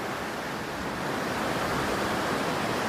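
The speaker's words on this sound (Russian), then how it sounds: "Течение, горная вода." Fast current of the Koksu mountain river in Kazakhstan, a loud, continuous broadband rush of flowing water, close and unbroken with no voices.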